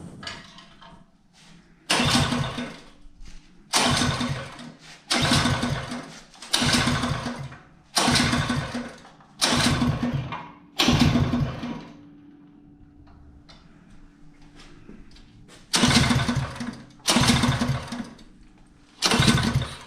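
A 212cc small engine is cranked repeatedly, with loud bursts of pull-start cranking and sputtering in a regular rhythm, separated by short quiet gaps, with no speech.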